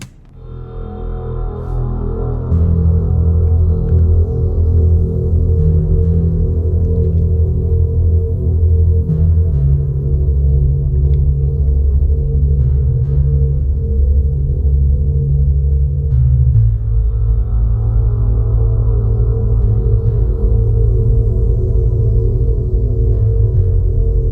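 Deep, loud synth bass notes throb steadily, holding long sustained tones that shift pitch partway through, with no voices.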